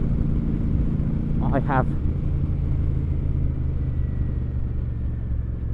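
Royal Enfield Super Meteor 650 motorcycle cruising with a steady low engine rumble and wind, while someone talks briefly over it.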